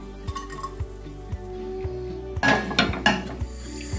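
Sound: browned beef mince transferred into YumAsia rice cooker pot

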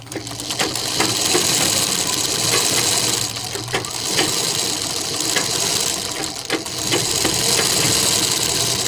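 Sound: sewing machine stitching a collar seam

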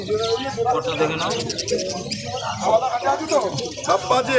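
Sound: pigeons cooing at a pigeon market

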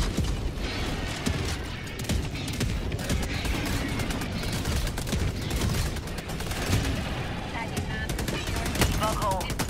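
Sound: machine gun sentry firing in Helldivers 2 video game

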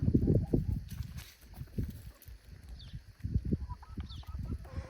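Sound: young rooster crowing

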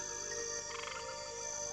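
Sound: frog croaking

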